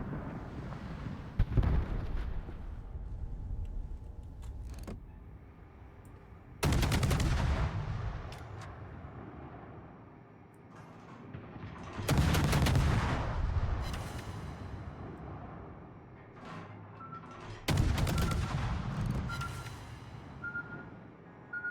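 Heavy ship guns booming in a naval battle game, several loud separate blasts spaced seconds apart, each followed by a rumbling decay, with no talking.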